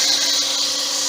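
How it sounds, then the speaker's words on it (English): Quick sanding of a lathe-turned wooden sword handle, an Excalibur prototype: a steady, close, continuous abrasive hiss with no pauses, alone and without talk. "Quick sanding."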